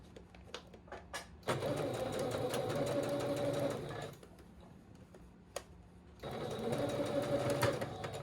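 Sewing machine stitching a thrifted dress, with two sustained runs of steady mechanical whirring separated by a pause filled with faint ticks and handling clicks.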